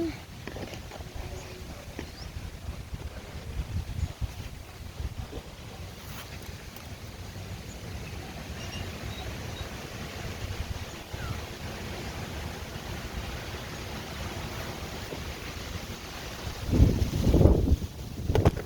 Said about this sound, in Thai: ลมแรงจริง ๆ นะคะ